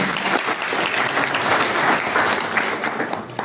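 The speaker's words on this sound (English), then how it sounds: "can we clap for him?" Audience at a youth coffee summit applauding, a dense and steady wash of many hands clapping that stays loud throughout, with no speech over it.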